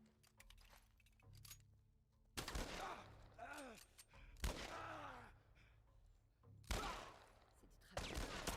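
Gunfire in The Last of Us, several loud bursts of shots separated by quieter stretches, with groans and strained voices between the volleys.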